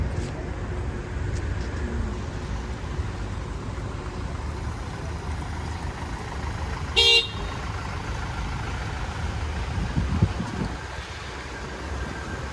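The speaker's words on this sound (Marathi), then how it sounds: "ही बघा आपली नवीन गाडी मी थोडीशी ड्राईव्ह केली" A newly bought car is driven along, with a steady low road rumble and wind noise throughout and a short honk-like burst partway through; no one speaks.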